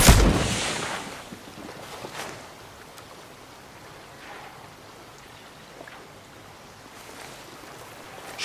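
A loud gunshot opens a tense Ghost Recon Breakpoint firefight on extreme difficulty, followed by scattered fainter shots at irregular intervals over a low background hiss.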